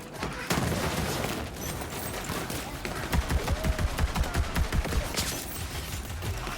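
Gunfire from a weapon in a shooting video game, with dense rapid bursts of automatic shots that peak into a rhythmic fusillade midway, loud and continuous with no talk over it.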